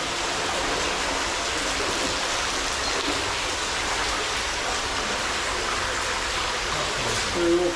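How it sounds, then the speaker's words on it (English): A small, short brook in Manchester flows steadily, giving a continuous close broadband rush of running water throughout, with no talking. "it's not a very long brook"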